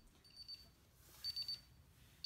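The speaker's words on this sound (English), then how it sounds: "it's beeping faster and it should be almost done. With the exit delay" A DSC PowerSeries Neo security alarm panel beeps during its exit delay, giving faint, thin, evenly spaced beeps in short bursts that grow quicker toward the end, heard alone over quiet room tone.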